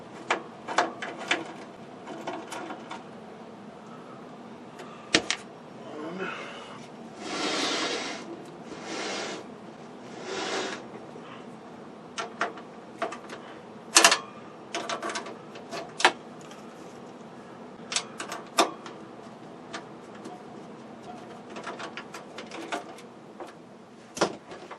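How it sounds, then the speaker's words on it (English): Chassis nuts being removed from a toy train on a workbench make irregular small metallic clicks, ratcheting and light clatters, close and fairly quiet with short scraping bursts and no talk. "So, last thing is to take the chassis nuts out."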